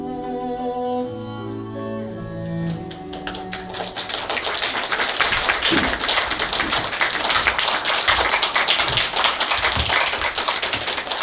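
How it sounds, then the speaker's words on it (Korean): An audience applauds at a Korean stage reading of the play Mother Courage and Her Children. After a few seconds of singing, dense, sustained clapping fills the hall at a steady loud level. "예, 한 번 더 박수 부탁드리겠습니다."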